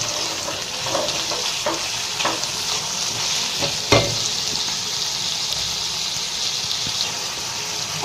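Marinated chicken coated in mint paste is stirred in a frying pan, a continuous sizzle with repeated scraping strokes of the spoon and one louder clack near the middle, close and steady.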